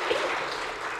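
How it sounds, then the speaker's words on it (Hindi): Audience applause at the Global Express Award 2017 ceremony in Lucknow, a steady wash of clapping from a crowd lasting about a second at moderate distance, with no voices over it. "तालियां और हो जाएं"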